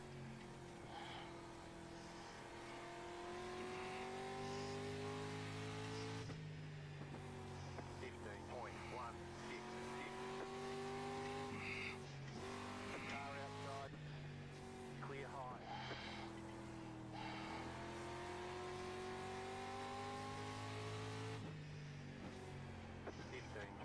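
Simulated street stock race car engines drone in iRacing at Lanier National Speedway, a steady harmonic whine that rises in pitch through repeated shift and acceleration cycles, with a driver talking over it.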